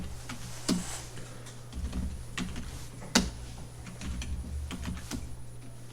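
Computer keys tapped at an uneven pace as a copy command is entered in 2D mold design software, with several sharper strokes standing out over a quiet room hum.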